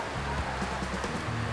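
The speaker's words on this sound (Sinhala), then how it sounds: "සුපිරි වස්සක් වහිනවා දැන්" Heavy rain pours down at a street food stall, a steady hiss of falling drops on surfaces with no break, close and fairly quiet, with a few faint low thumps underneath.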